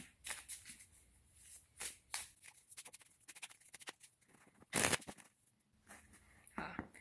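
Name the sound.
shuffling oracle cards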